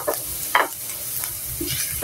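Garlic sautéing in a pan for pork afritada, a steady close sizzle with a few short stirring scrapes and clinks, no talking over it.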